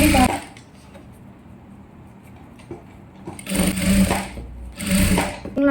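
Two short runs of a sewing machine stitching a silk skirt for a child's pavadai, loud and close, with a quiet pause between them.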